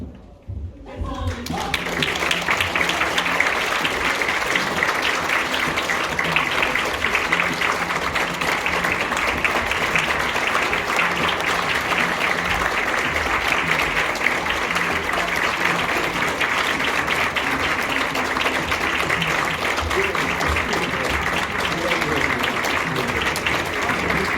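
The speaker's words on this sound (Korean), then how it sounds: "잠시 후 내빈들께서 입장하실 때 힘찬 박수로 맞아주시기 바랍니다" Sustained, loud crowd applause fills a hall as guests enter a 2023 regular delegates' convention, with steady clapping continuing unbroken for over twenty seconds.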